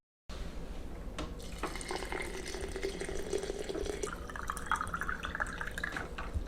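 Tap water runs into a glass jar being filled for sprouting wheat berries, a steady close stream whose pitch climbs as the jar fills, with no voices.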